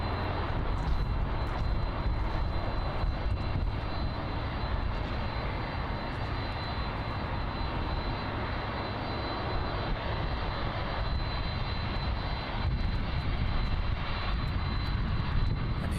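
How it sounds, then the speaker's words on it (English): An Atlas Air Boeing 747-400 freighter taxis at Miami International Airport, its jet engines a steady, moderately distant rumble and whine that holds evenly with no talking. "the Atlas 747-400 freighter arrived in from Anchorage, back taxiing to its gate."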